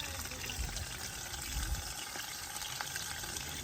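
Water gushes fast and steadily out through the drain of a fish tub holding molly fish, a dense continuous rushing close up with no talking.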